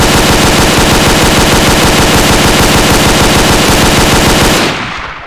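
An emplacement machine gun in the Garry's Mod video game fires a loud, unbroken stream of rapid shots for about four and a half seconds, then stops abruptly and the sound trails off. No one speaks.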